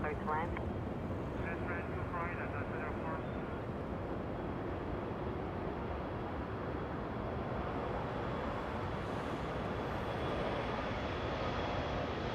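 An Embraer 175 regional jet airliner departing Los Angeles International Airport for San Francisco, its engine roar a steady broadband rumble filling the whole stretch, with brief faint voices near the start.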